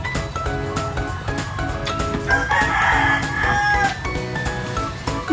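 A rooster crows close by and chickens cluck at an outdoor hut, a loud drawn-out crow over steady clucking and busy background noise.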